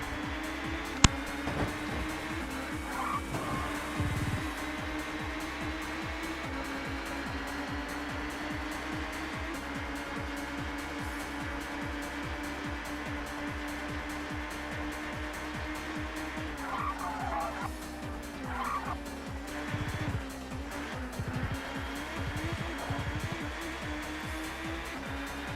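Race cars lap Snetterton in a racing game, a steady droning engine whine with occasional pitch shifts and faint tire squeal, moderately quiet and continuous with no talk.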